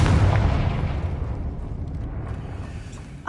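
A Confringo fire spell explodes in the Hogwarts Legacy video game: a loud, booming blast at the start that rumbles and fades out over the next few seconds, with no talk.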